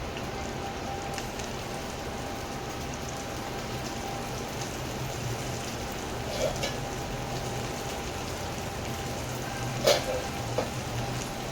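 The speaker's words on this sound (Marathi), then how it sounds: "बघू शकता मिरची अशी आपल्याला फ्राय करायची." Green chillies fry in a hot pan, giving a steady, even sizzle and crackle that runs throughout, with a few faint pops and clicks near the end.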